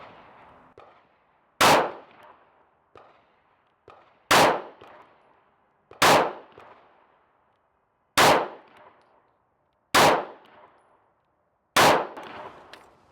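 Six gunshots ring out at an outdoor range as the shooter fires a six-round group, each a sharp loud crack about two seconds apart with a short tail. Quieter clicks come between them, and nobody speaks.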